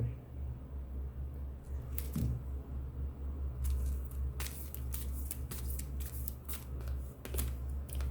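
Tarot cards being shuffled and slid back into the deck, close dry riffling flutters in short bursts, quiet with no talking.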